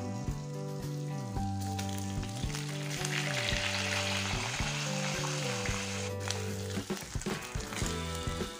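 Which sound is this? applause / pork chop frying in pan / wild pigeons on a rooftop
pork chop frying in pan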